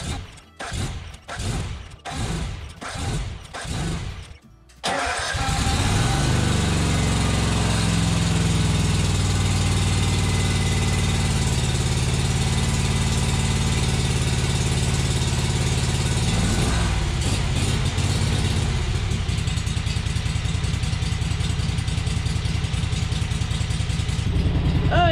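A Yazoo Kees ZT Max 42-inch commercial zero-turn mower engine starts after a few sputtering cranks, then settles into a loud, steady idle with a slight lope, running alone close by.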